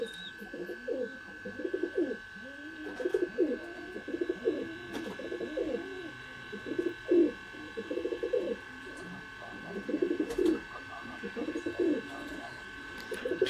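Sialkoti flying pigeons cooing steadily in repeated soft, throaty phrases, several birds overlapping in a close, continuous rolling rhythm over a faint hum and steady tone in the background.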